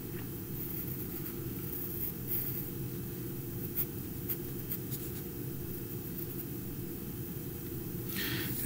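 Pencil or pen drawing a 6SN7 vacuum tube on paper, a soft continuous scratching close by that runs steadily throughout with a few faint taps, over a low background hum.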